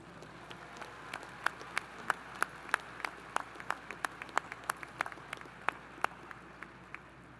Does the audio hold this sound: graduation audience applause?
yes